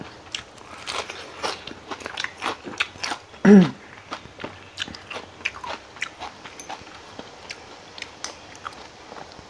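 A crunchy fried mackerel head is bitten with one loud, sharp crunch partway through, surrounded by softer crackly chewing and clicks at close range.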